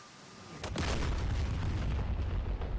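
A JDAM bomb lofted onto a ground target detonates: a loud, deep boom bursts in after a brief lead-in and rolls on as a sustained low rumble, with no talking.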